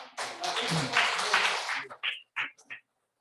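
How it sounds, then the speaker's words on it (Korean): A church congregation at an Easter-season Sunday service breaks into a burst of applause lasting under two seconds, which fades out before a few short spoken words in a quiet room. "일단은 박수 쳐주시면 감사하겠습니다"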